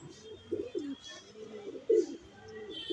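Pigeons, including a nafta pigeon, coo in a series of soft, throaty calls. Several rolling coos come at uneven intervals, close by and fairly clear, with no talking.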